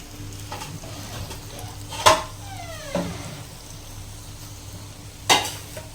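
Fish curry cooking in a pan on low heat, with a soft sizzle under a few sharp clinks of a spoon stirring or tapping the pan, close and fairly quiet.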